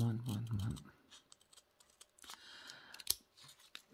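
Scissors snip out stickers made on a Xyron sticker maker: a series of light, close cuts and paper rustles, following a brief spoken voice at the start.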